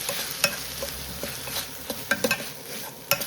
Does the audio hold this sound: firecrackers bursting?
no